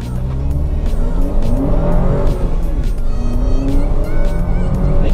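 An Alfa Romeo Stelvio SUV pulls away hard from a standing start without launch control, its engine note climbing loud and steady through the gears from inside the cabin.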